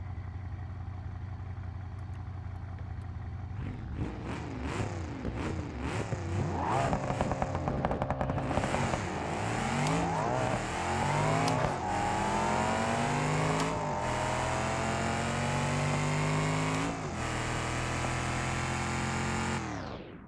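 A BeamNG.Drive project car has its clutch dumped, the engine roaring up through repeated rising revs and gear pulls, loud and close, before cutting off abruptly at the end.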